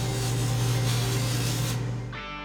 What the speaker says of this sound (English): The wheels of the polishing machine spin at a high rate of speed